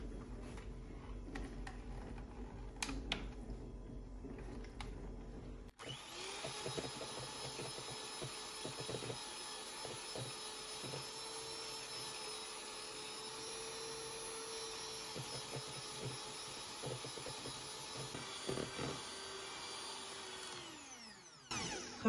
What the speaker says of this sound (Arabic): بخفقهم على سرعة عالية.